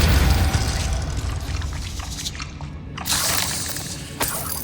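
Spell effects from Hogwarts Legacy, the fiery Confringo and the icy Glacius, heard as a rushing, whooshing burst with a deep low rumble at the start, then a second bright hissing blast around three seconds and a brief sharp crack near the end.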